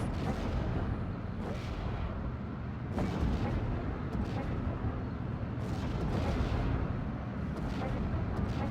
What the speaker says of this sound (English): So I think that may be a 120mm mortar, or somewhere around there.